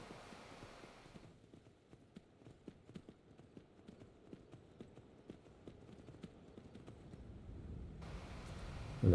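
Horse hooves clip-clop at a steady walking rhythm in Skyrim, a regular run of close, fairly soft thuds over faint wind-like ambience, with no one speaking.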